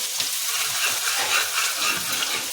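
Finely chopped onions fry in hot oil for masoor dal, a continuous dense close-up sizzle with a faint stirring texture throughout and no voices.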